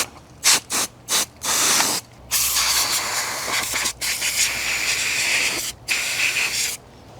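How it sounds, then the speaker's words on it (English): Compressed air blasts dust off a dirty 1:18 scale 1968 Bullitt Mustang model, coming in loud hissing bursts, several short ones at first and then longer sustained blowing broken by brief pauses. "Get all the loose dust off. Air definitely helps with that."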